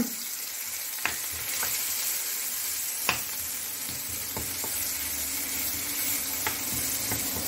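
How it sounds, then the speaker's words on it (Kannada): Finely chopped onion sautés in a pan for a black chickpea curry, a close, steady sizzle broken by occasional sharp scraping clicks of a stirring spoon. "ಸಣ್ಣದಾಗಿ ಹೆಚ್ಚಿದಂತಹ ನೀರುಳ್ಳಿ, ಸ್ವಲ್ಪ ಇದನ್ನು ಇದರಲ್ಲಿ ಬಾಡಿಸ್ಕೊಳ್ಳೋಣ"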